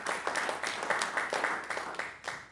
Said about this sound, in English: Let's have a round of applause for Barb.